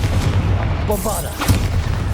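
A Bombarda spell explodes in Hogwarts Legacy, a dense booming burst with sustained low rumble and a couple of sharper impact peaks, loud and close throughout.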